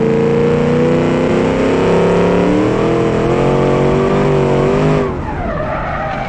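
A car in the BeamNG driving game revs loudly while its tyres skid and squeal, with a rising and falling harmonic engine whine that cuts off abruptly near the end, leaving a rougher, quieter rumble.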